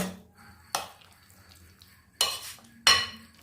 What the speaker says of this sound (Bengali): ভালো করে এগুলো মিশিয়ে নেব।